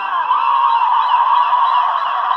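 Bird calls from a children's sound book play as a steady, honking fowl-like cry, loud and continuous for a couple of seconds with no talking over it.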